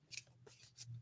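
A deck of reading cards is shuffled quickly, giving a few faint, brisk riffling bursts over a low steady hum in a quiet room.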